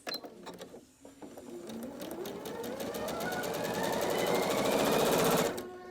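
A sewing machine stitches a quarter-inch seam on quilt squares during chain-piecing: a few hesitant starts, then a rapid, rising mechanical whir of steady needle strokes that stops abruptly near the end.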